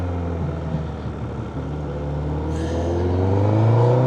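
A Honda CBR1000RR motorcycle engine while riding through city streets, a steady droning note that rises in pitch and loudness as it accelerates toward the end, with wind noise over it.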